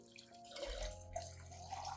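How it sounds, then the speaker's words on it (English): One liter of clean, room-temperature water pours into a solution to dilute it, a soft, steady splashing and trickling that is faint and close, with no talking. "Next, add 1 liter of clean water at room temperature to dilute the solution."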